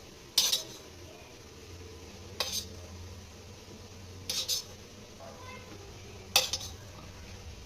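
Spiced boiled egg pieces being moved from a pan onto a plate for egg biryani: four sharp metallic clinks of a utensil against cookware, spaced a couple of seconds apart over a quiet kitchen background.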